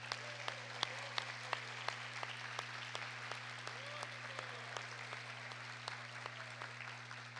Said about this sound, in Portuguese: queria dar uma salva de palmas para o Senhor Jesus